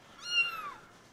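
A single kitten meow, a short rising-then-falling mew, clear and fairly close against a quiet background.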